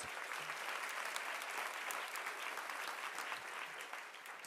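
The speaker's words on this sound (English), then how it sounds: "give her another round of applause." Dense, sustained applause from a large audience at an awards ceremony honouring Adele, steady and loud across the whole stretch with a slight fade at the end, no talking over it.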